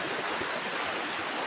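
Water rushes steadily and evenly, a constant close hiss of a flowing river with no other sounds or voices.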